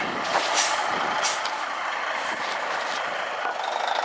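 A long well drill rig truck maneuvers near a trench, its engine rumbling with hissing air brakes and a faint string of reversing beeps toward the end, close and fairly loud.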